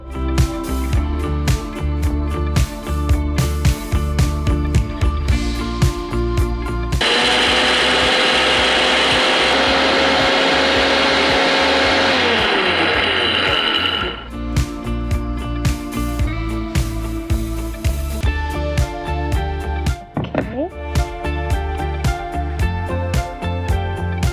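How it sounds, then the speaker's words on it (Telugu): A kitchen mixer grinder grinds fried ingredients with roasted gram for a plantain and amaranth stir-fry, its loud motor whirring steadily for about seven seconds between stretches of clattering, rattling handling sounds. "ఇప్పుడు మిక్సీ పట్టేస్తాం"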